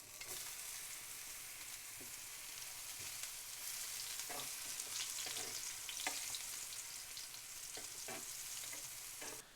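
Aubergine slices frying in oil in a pan, a steady bright sizzle throughout, with occasional soft scraping and stirring knocks.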